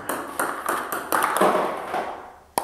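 A table tennis ball bounces repeatedly on a paddle during spin practice for serves, giving a series of sharp, close ticks at an uneven rhythm, with a final crisp tap after a short pause.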